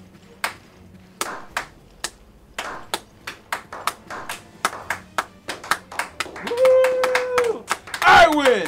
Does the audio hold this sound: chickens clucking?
no